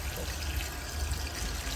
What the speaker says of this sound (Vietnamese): Bây giờ thì mình sẽ gội đầu rồi ạ.